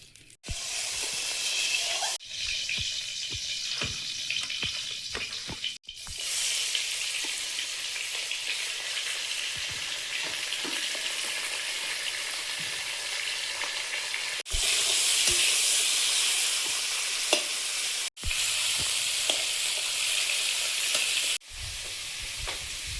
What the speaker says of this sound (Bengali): ইলিশ মাছের মাথাটা ভেজে নেব। একটু লবণ দিলাম আর হলুদ, তেল।